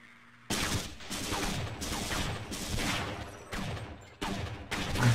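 Soldiers fire guns in the video game Half-Life: Blue Shift: several rapid bursts of gunfire, separated by brief gaps, heard at moderate volume with no talking.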